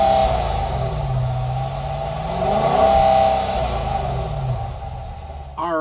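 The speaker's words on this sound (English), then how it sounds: "We'll take it for a drive and see how that V8 runs." The V8 engine of a 2022 Jeep Grand Cherokee runs with a low, steady drone that swells and eases as it revs, heard close and loud. A brief rustle comes at the end.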